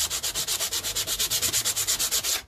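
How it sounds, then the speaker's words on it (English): Rhythmic back-and-forth strokes of sandpaper rubbing rough wood on a simple wooden key rack, about twenty even, close and fairly loud passes with no talking. "we're just going to give it a good sand down to get rid of all the roughness that's on the wood"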